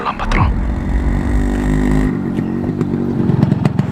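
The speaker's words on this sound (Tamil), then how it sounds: "பார்த்தா ஒரு பைக் வந்து நிற்கிற சவுண்ட் ஒன்று கேட்குதுங்க." Motorcycle in a film teaser rolling in and coming to a stop, a loud close engine roar that settles and cuts out midway, followed by clattering metallic hits and ticks.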